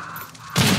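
A burst of gunfire from the video game Hunt: Showdown erupts loudly and abruptly partway through, following a quieter stretch of ambient game noise.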